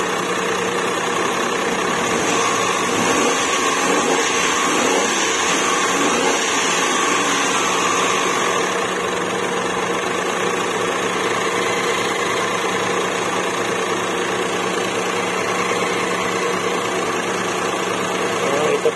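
A Chery QQ 308 with a manual gearbox, fitted with a replacement injector, starts and settles into a steady, loud idle with a constant droning hum and vibration, close by, running without a break.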